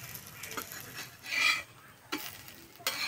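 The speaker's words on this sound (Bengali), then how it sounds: "একটু সময় ধরে আস্তে আস্তে ভাজলে পেঁয়াজগুলো খুব সুন্দর ভাজা হবে" Onions frying slowly in a pan for a semolina breakfast dish, a soft steady sizzle with intermittent scraping and stirring strokes of a utensil against the pan, close and alone.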